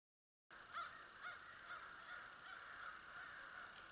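Crows cawing outdoors at a hunt camp: a series of faint, distant, harsh calls repeated at a steady pace over quiet background noise.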